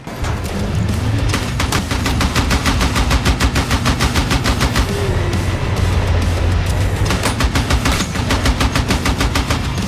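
Rapid machine gun fire in the video game Battlefield 6, loud and continuous bursts of automatic shots with booming low end, dense and close throughout with no talk.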